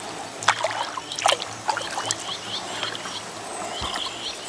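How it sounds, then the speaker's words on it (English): A kayak paddled downstream with the current, paddle blades dipping and splashing in a few soft, irregular strokes with light water trickling around the hull, outdoors and close. "Just gently paddling now and making good speed."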